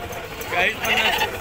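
Goats at a weekly livestock market bleating, one or two close calls over a steady market background.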